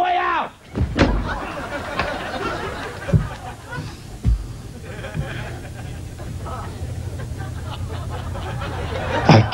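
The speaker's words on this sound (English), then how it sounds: "Don't let the door hit you on the way out!" A door slams hard during a comedy sketch on a late-night talk show, with an audience chuckling and laughing and people talking around it.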